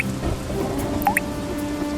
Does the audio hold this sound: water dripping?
yes